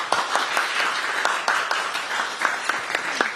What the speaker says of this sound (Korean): 오늘이라도 박수 한번 많이 쳐주시면 좋을 것 같아요